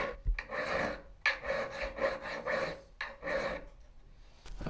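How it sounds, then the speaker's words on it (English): Coarse hand filing on metal around a punch letter makes rhythmic rasping strokes, about seven or eight close, loud scrapes with short pauses between them, and no voices. "I've just done a lot of rough filing around the outside"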